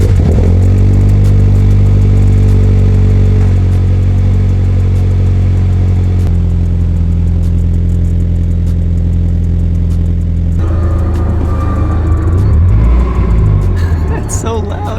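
A supercharged Subaru BRZ with an HKS GT2 supercharger kit roars through a hard pull, loud, close and continuous, its engine note rising and shifting before easing off near the end.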